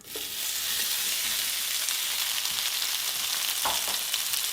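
Potatoes frying in hot oil in a pan, a loud, dense, close sizzle that starts at once and holds steady throughout, with a couple of faint stirring knocks, no talking.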